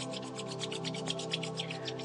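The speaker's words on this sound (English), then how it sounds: "and rub your palm together." Palms rubbing together during a yoga exercise, a steady close swishing friction in quick regular strokes, with no talking.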